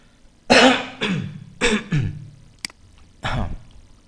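Several short, harsh coughs and throat-clearing bursts come close together, loud and near, with brief pauses between them.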